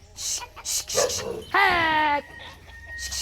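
Chickens cluck amid the voices of people talking and calling nearby, with a drawn-out squawk in the middle.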